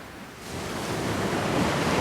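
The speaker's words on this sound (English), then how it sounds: "The ocean is so powerful." Ocean waves surge and wash in a steady, rising roar of surf, with broad noisy wash filling the air and no voices.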